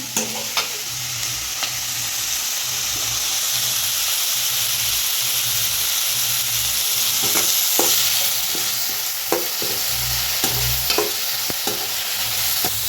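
Curry leaves sizzle in hot oil as a Tamil side dish for chapati cooks, a steady frying hiss with stirring scrapes and occasional sharp pops and crackles, close and alone without talk.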